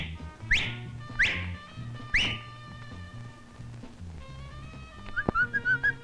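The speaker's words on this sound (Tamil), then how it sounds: "விசில் அடிச்சாரு" A person whistles in several short, rising wolf-whistle swoops, then a quick run of chirpy notes near the end, all over soft background music.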